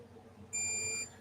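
Sharp steady electronic beep from a multimeter continuity test on the wiring of a bajo quinto, a single tone lasting about half a second against a quiet room hum.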